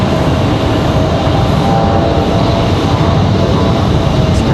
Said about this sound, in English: So we got another United MAX 9 on the way in.